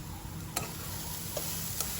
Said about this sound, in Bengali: পেঁয়াজ আমাদের ভাজা মোটামুটি হয়ে গেছে